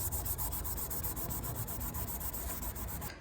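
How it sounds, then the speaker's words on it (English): Body filler on a Toyota MR2 lip being hand-sanded with 400 grit sandpaper: fast, rhythmic back-and-forth scraping strokes, close and steady, with no voices. "now I'm just going to crack on with a bit more sanding"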